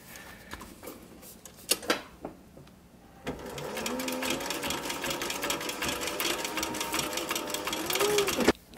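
A sewing machine stitches a fabric sun visor: a few scattered clicks and handling knocks, then a steady, fast mechanical whir of stitching that runs unbroken to the end, close and moderately loud.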